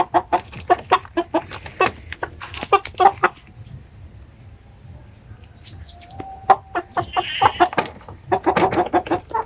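Basilan native chickens cluck and squawk in bursts close by, with sharp calls clustered at the start and again near the end and a quieter pause in between.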